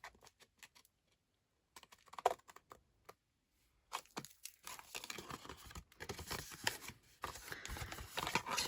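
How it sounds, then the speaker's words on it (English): Scoring tool or blade drawn along a score line on a paper pen holder, scratchy dry scraping strokes in short bursts at first, then denser continuous rustling and cutting sounds close up, with no talking. "Turning it over and then cutting up score line."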